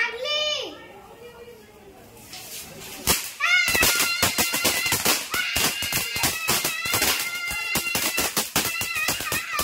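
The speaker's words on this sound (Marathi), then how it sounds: "नवरीच्या आता फटाके लावत आहे" Firecrackers go off at a Tulsi vivah celebration: a rapid, irregular string of sharp cracks and pops that starts a few seconds in, mixed with excited children's voices and shouting.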